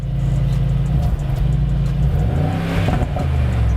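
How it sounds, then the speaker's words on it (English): A loud sports car engine revs up, its pitch rising and falling steadily, heard close and continuous throughout. "Can you rev it once?"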